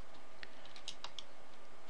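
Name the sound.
typing code on a computer keyboard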